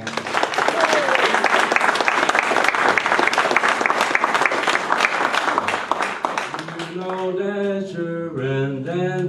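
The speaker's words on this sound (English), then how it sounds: "give all these guys a round of applause" Loud, sustained clapping from a crowd fills most of the stretch, then fades as singing voices take over near the end.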